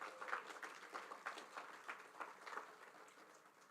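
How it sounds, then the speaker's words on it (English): A crowd at an outdoor Cherokee Nation groundbreaking for a wellness center applauds, a soft, scattered patter of clapping hands that carries on evenly for several seconds. "Let's give Tommy another round of applause,"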